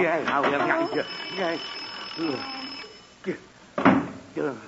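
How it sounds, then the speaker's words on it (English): A steady high ringing tone from an alarm clock runs under excited voices talking over each other, then cuts off as the talk continues. "Archie, that was just the alarm on your clock"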